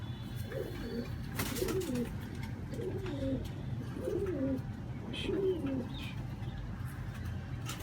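Pigeons coo in a steady series of soft, rolling calls, repeating about every second over a low background rumble.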